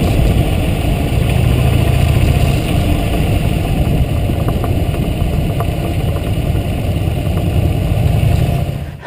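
Harley-Davidson motorcycle engines idle together at a rally, a loud, steady low rumble that continues without break throughout.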